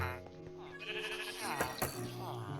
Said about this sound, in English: And all my nice pets. Jeb the sheep